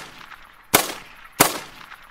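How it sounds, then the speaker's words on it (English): Two crisp .22 rifle shots at a goose in theHunter: Call of the Wild, about two-thirds of a second apart, each a short sharp crack with a brief tail over quiet outdoor ambience. "Put two shots in him with the 22, and he's down."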